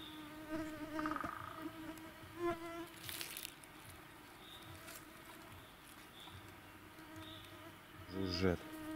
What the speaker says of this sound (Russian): жужжат.